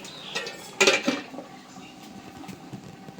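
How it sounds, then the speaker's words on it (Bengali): A lid set down onto a cooking pot of fish and vegetable curry lands with one sharp metallic clank, followed by a brief rattle as it settles, close by against a quiet kitchen background. "এখন ঢাকনা দিয়ে দিই।"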